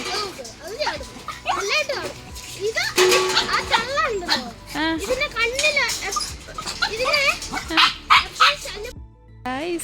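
Small high-pitched yaps and whimpers from a young dog, mixed with excited voices and children talking nearby.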